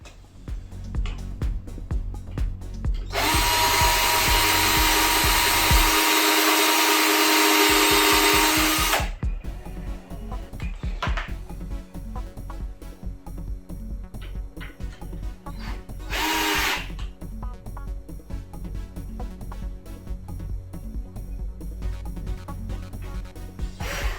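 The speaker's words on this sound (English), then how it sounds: "The first thing I did was to lay out the base of the trolley and pre-drill the corners." A power drill whirs loudly as it pre-drills the corners of a wooden trolley base for several seconds, then a run of clicking and rattling knocks as tools are handled.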